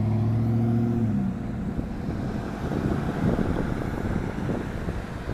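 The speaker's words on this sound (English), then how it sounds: "And there it goes, one of the first Walmart trucks that's going to be coming around here" A Walmart delivery truck rumbles past outdoors with a low, broad roar mixed with wind buffeting on the microphone, starting close and loud and then easing off as it moves along.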